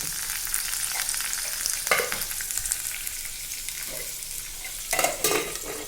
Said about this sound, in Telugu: మంచిగా నూనెలో వేగనిద్దాం